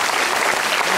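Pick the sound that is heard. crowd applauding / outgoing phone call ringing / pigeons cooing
crowd applauding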